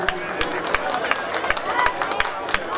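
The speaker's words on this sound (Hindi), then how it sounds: "तालियों से स्वागत होना चाहिए।" An audience at a Jagran claps to welcome guests, steady scattered hand claps in an even rhythm with a murmur of crowd noise and a voice speaking over it.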